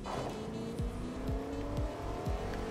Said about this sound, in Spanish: Yo escucho un auto. Está cerca.